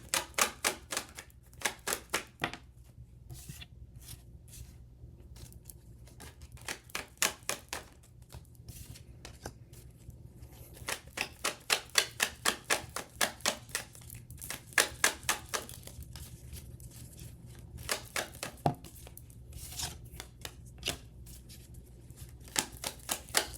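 Tarot cards are shuffled and drawn during a reading, giving rapid clustered flicks and riffles in bursts with short pauses, close-miked and fairly soft.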